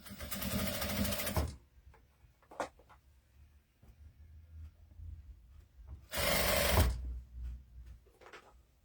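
A sewing machine stitches doll clothes, running in two loud sustained bursts of rapid mechanical whirring, separated by quieter fabric handling and small clicks, close up with no talking.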